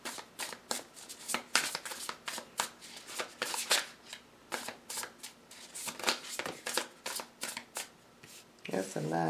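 Tarot cards being shuffled close up, with a long run of quick, crisp riffling flutters in steady rhythm, ending in a brief shuffle of handling noise.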